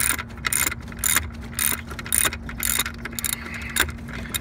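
A wrench or ratchet clicks in short regular bursts while loosening a fitting on the brake master cylinder of a 1997 Buick Century, close up, with steady background hum between strokes.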